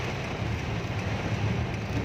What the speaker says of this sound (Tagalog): sobrang lakas ng ulan dito mga idol